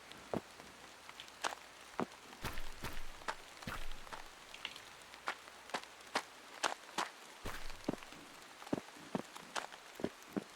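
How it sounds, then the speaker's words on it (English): Footsteps in the horror video game Hollowbody, a steady series of sharp, close steps with an irregular, slightly uneven rhythm over a quiet rain-like hiss. "There's something weird going on with the footsteps."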